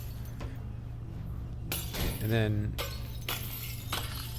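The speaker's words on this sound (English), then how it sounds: "you can actually kind of break this glass" Glass panes shatter in the Half-Life: Alyx video game, heard as a sharp crash with clinking shards. Someone speaks briefly over it.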